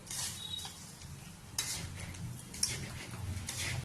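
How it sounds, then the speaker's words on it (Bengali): Rice being fried in ghee with ginger in a pan, with soft sizzling and repeated scraping stir strokes of a spoon against the pot, fairly close and steady, no talking. "এবার চালটাকে ভালো করে আমি ভেজে দেবো।"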